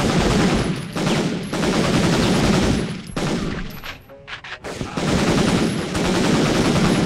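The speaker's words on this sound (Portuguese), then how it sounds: "Que arma barulhenta" Gunfire from the PlayStation 1 game Medal of Honor: loud, dense bursts of rapid machine-gun shots fill most of the stretch, broken by a brief lull near the middle before the firing resumes.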